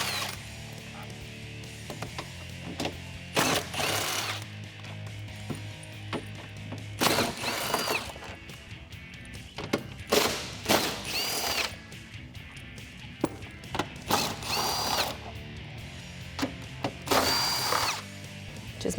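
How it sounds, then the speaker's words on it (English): A power tool fitted with a 13mm socket zips out bolts from a Jeep Wrangler JL tire carrier in several short, loud bursts separated by pauses, with faint clinks of metal between runs. "And then we can remove the bolts out of our carrier. I'm going to be using a 13mm socket to do so."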